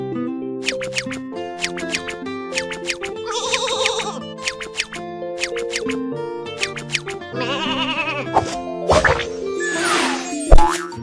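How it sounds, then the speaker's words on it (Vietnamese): Cartoon sheep shearing on a farm, with repeated bleating sheep calls and springy comic effects over bouncy background music, ending in a louder burst. "bắt đầu cắt lông cừu"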